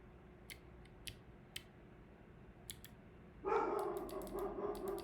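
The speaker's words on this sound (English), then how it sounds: "my dog is barking like an idiot" A dog barks indoors in short sharp bursts, a few scattered single yaps at first, then a louder sustained volley of barking near the end, no talking.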